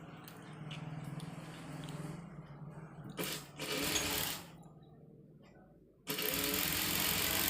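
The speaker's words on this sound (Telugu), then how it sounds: "ఈ కార్నర్ నుంచి ఇక్కడికి ఇట్లా స్టిచ్ చేసుకోండి" A sewing machine stitches fabric corner to corner in several bursts of fast, whirring needle clatter, close up, with short pauses between runs and a final loud steady burst.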